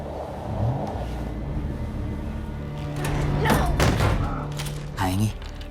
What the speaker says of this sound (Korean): 밖에서 들려오는 차 소리.